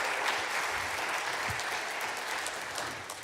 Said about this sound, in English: Hey, big round of applause.